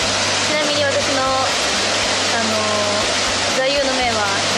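A waterfall pours in a steady, loud, broadband rush that runs unbroken from start to finish, while voices talk over it close by.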